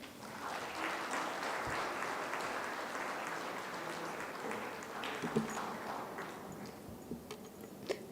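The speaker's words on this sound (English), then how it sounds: "Can we have another round of applause for Anju ma'am, please?" An audience at a townhall applauds continuously, a dense, even wash of clapping that holds steady for several seconds before thinning, with a few sharper individual claps near the end.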